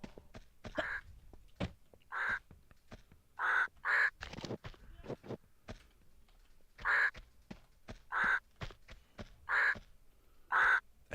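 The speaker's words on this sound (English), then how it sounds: "I hear the squawking bird." Crow squawking in the video game Tomb Raider II, a series of harsh, evenly spaced caws, some in quick pairs, standing out over quiet game ambience with faint clicks between calls.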